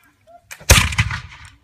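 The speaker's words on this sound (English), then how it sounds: "that was the gun shoot from the old guns back in the old days" An old flintlock gun fires once outdoors, a faint click of the lock followed by a loud, close blast that rolls away over about a second, with no talk.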